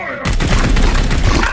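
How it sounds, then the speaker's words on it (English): Dense, loud gunfire in Warhammer 40,000: Chaos Gate - Daemonhunters erupts suddenly and continues as a rapid rattling barrage with booming low thuds throughout. "Opening fire!"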